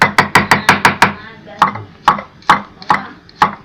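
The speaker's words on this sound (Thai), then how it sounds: "แล้วก็มีกระเทียม แล้วก็มาหั่น" A knife chops garlic on a cutting board in quick, even strikes, then slower, spaced single chops, crisp and close.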